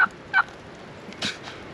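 A wild turkey gobbles in the rain during a hunt, two or three short, sharp bursts that sound fairly distant, with quiet gaps between them.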